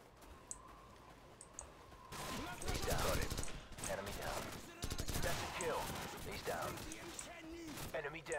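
Heavy gunfire from AK rifles in a military shooter video game rattles in dense automatic bursts, with quieter radio chatter before it and voices talking over the shooting.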